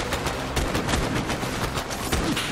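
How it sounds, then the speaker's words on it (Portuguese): Rapid gunfire from a sniper duel in the video game Borderlands 3, loud, close bursts of shots crackling one after another with no talk over them. "Tiro."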